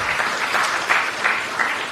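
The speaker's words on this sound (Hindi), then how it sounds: "हरियाणा के लिए भी बहुत जोरदार ताली बजा दो आप" A crowd at a BJP political rally claps steadily in a dense, continuous burst of applause, loud and close, with no voice over it.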